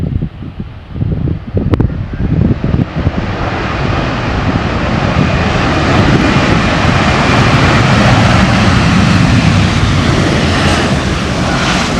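A Batik Air Airbus A320 airliner landing at an airport in Aceh, Indonesia: a loud, sustained jet engine roar with wind buffeting that builds and then holds steady, heard close with no voices.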